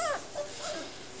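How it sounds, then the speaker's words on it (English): Five-week-old setter puppies whimper and yip in short, thin, high cries, a few close whines in quick succession over a quiet room background. "here's the setter puppies. They're 5 weeks old yesterday."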